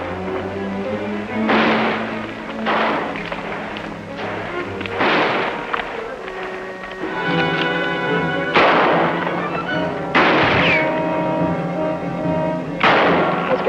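Gunshots crack and boom in a Western shootout, about six loud sharp reports spaced a second or two apart, each trailing off with a ringing echo over a low rumbling background.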